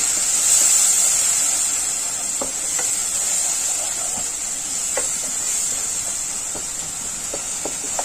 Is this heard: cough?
no